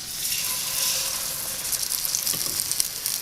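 New York strip steaks sizzle in a hot cast iron pan, a steady bright hiss with small crackling pops scattered through it, close and continuous.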